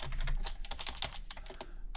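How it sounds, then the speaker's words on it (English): Steady typing on a computer keyboard, close and quiet, a fast run of soft key clicks with short pauses between bursts. "so we just need to type in"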